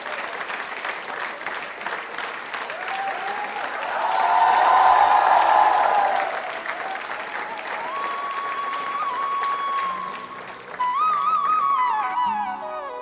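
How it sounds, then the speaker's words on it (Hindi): Sustained applause from a school audience after a dance performance, steady clapping that swells louder midway, with a faint tonal music line running underneath. "इनके लिए बजाइए तालियां, इनकी नृत्य प्रस्तुति के लिए आप जोरदार, जबरदस्त।"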